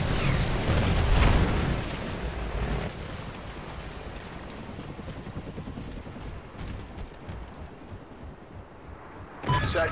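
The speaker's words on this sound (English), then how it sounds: "Trinity rocket inbound." A Trinity rocket explosion in Call of Duty Ghosts, a heavy booming blast that rumbles and crackles as it decays into scattered debris and mechanical noise, with a sharp burst near the end.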